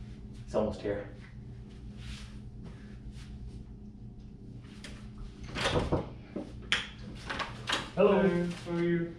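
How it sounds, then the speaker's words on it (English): A sliding barn door on a bathroom rumbles along its track among scattered knocks and handling sounds, with people talking nearby over a low background hum. "It's a pretty cool bathroom door though, huh? A sliding barn door."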